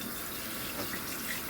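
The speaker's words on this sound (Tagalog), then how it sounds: "Naghuhugas ako ng plato," Dishes being washed under running tap water at a sink, a steady close rush of flowing water with faint clinks, without speech.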